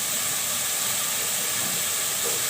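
Prawns fry in a pan for lentils cooked with bottle gourd, giving a steady, even sizzling hiss that carries on without pause and without voices.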